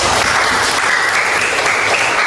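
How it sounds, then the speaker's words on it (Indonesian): Group applause for two people at a gathering, a dense, loud wash of clapping that holds steady throughout and stops at the end. "Kasih tepuk tangan"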